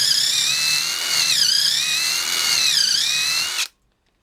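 Drill driver on speed 2 driving a bit at about 2800 RPM: a loud, close, steady high-pitched whine with slight wavering in pitch, lasting over three seconds before stopping abruptly into silence.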